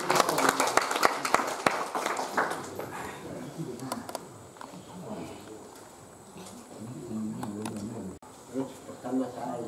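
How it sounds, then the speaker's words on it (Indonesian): A gathering in a village hall with customary council elders breaks into scattered applause that fades after a few seconds, followed by people talking. "Tepuk tangan."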